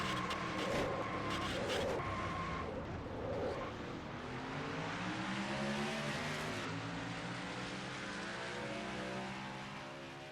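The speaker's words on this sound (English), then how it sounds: "On board with the Coca-Cola Mercedes of Kreazm" The onboard engine of a Coca-Cola Mercedes race car in a stock car racing video game at Michigan International Speedway, a loud droning whine that climbs and shifts pitch as the car accelerates, with no talk.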